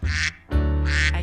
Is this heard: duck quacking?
yes